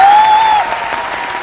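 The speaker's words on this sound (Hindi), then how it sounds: "आप लोग ताली बजाइए तब हम आगे।" A crowd at a Hindi comic poetry gathering bursts into brief, loud, dense clapping, with a high whistle over the opening moment before the applause continues.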